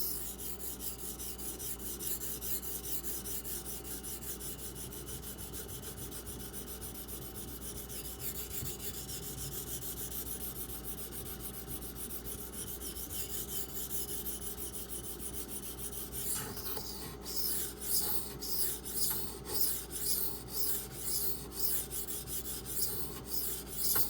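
A knife blade rasps back and forth across a sharpening stone in steady strokes, quiet and close; the strokes turn faster and more distinctly rhythmic near the end.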